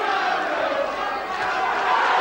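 Boxing crowd at a British super featherweight title fight at Shannons Gym roaring and shouting continuously as fans invade the ring, a dense, loud mass of voices with no break.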